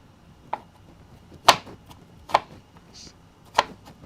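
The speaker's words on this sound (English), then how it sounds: "You have cut long slices and then just held them together and cutting straight down." A knife cuts food on a cutting board in a home kitchen while making spicy meatballs: four sharp, separate chops with pauses between them, close and clear against a quiet room.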